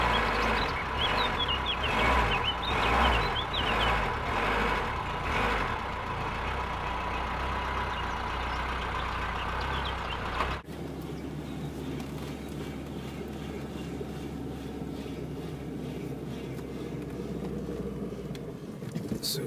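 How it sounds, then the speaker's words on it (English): A 1986 Citroen BX rolls downhill with a low, rumbling engine and road noise heard from inside the car, rattling at first, then dropping to a quieter, steadier drone after an abrupt change partway through. "We're gonna go down in my trusty old steed, a Citroen BX from 1986"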